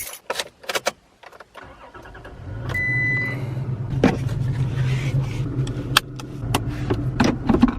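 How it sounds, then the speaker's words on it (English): A Toyota Tacoma V6 truck starts up and settles into a steady low engine drone, preceded by scattered clicks and knocks outside, with a few sharp transients over the rumble. "hear the V6 roar"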